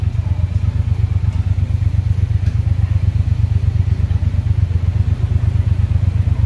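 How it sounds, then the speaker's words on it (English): A Triumph motorcycle on a street in Thailand, its engine a steady, loud low rumble throughout as it passes nearby. "Nice bike. It's a Triumph."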